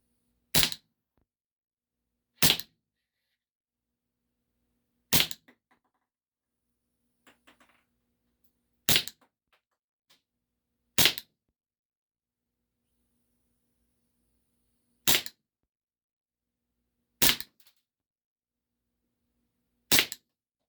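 A WE Tech Bulldog 6mm gas blowback airsoft pistol fires 0.30 gram BBs at a target. Eight sharp, crisp cracks come at irregular intervals of about two seconds, with faint handling clicks between them and no talking.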